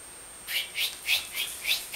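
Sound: voice imitating an owl

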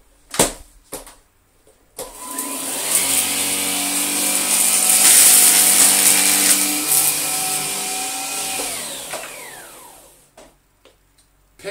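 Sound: Gtech Air Ram Mk2 vacuum picking up rice

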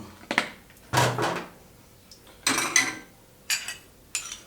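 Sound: spoon scooping sugar

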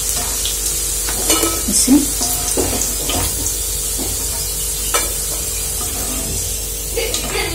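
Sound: frying potatoes for crispy honey chilli potato

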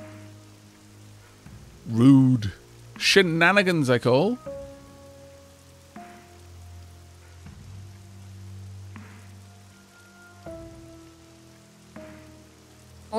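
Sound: rain in video game 7 Days to Die

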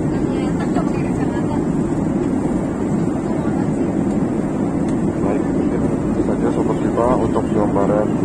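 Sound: Sriwijaya Air airplane cabin in flight

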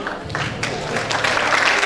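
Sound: applause at an award ceremony

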